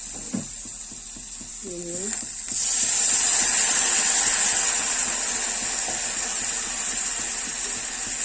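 Water poured into a pan of frying potatoes, onions and tomatoes sets off a loud, steady hiss of sizzling and steam that holds to the end, after a spoken voice and a softer start of cooking noise.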